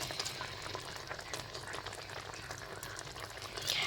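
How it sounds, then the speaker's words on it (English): A lamb curry with tomatoes simmers in a pot, making a steady, busy bubbling and sizzling crackle heard up close, with no voice. "My lamb has been simmering for 20 minutes."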